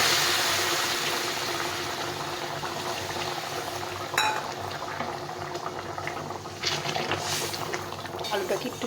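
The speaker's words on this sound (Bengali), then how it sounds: "এখন আমি এখানে দিয়ে দেবো ফুটিয়ে রেখেছিলাম গরম জল, সেই জলটা দিয়ে দেবো" Boiled hot water is poured into a simmering potato and spice curry, giving a steady liquid rush and bubbling sizzle with a few clinks of utensils.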